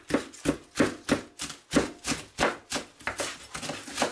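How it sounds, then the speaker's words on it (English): A knife chopping a pile of fresh garden salad greens on a board, about a dozen quick, crisp chops in a steady rhythm that grows slightly faster and softer toward the end, close up with no talking. "and then I just start chopping."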